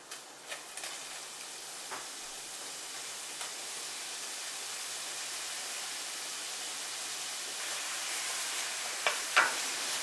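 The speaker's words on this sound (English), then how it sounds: "we're going to add the sliced prosciutto and cook it, stirring frequently and breaking apart any clumps" Sliced prosciutto fries in a pan while being stirred, giving a soft, steady sizzle with a few faint scrapes and clicks from the utensil throughout.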